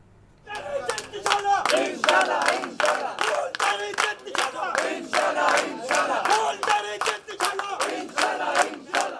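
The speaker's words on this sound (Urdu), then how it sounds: "واسا دفاتر میں بجلی کے بلوں میں اضافے کے خلاف شدید نعرے بازی" Protesters at WASA offices in Lahore chant slogans against rising electricity bills, a crowd shouting in loud, regular rhythmic bursts, each chant line punched out in unison with brief gaps between, sustained throughout.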